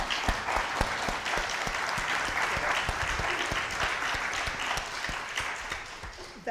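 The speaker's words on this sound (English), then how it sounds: "So please give them a round of applause" A community audience applauds at the close of a voter-readiness program. Many hands clap in a steady, sustained round with sharp individual claps standing out, easing off slightly near the end.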